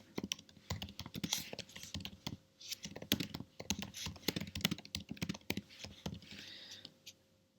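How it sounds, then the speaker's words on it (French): Quick, irregular clicking of keys being typed on a computer keyboard, close and fairly quiet, in short bursts with brief pauses. "je vais le taper, le saisir au clavier"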